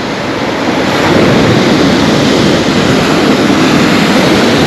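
Sea surf rolling onto Svirsky beach at Lazarevskoye near Sochi, a loud, broad, continuous roar of breaking waves mixed with strong wind buffeting the microphone, without voices.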